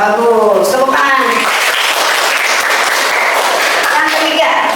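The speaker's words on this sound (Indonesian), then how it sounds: "Tepuk tangan." A classroom of students claps together on cue, a loud burst of applause that starts after a teacher's voice and holds steady for several seconds, with voices talking briefly at the start.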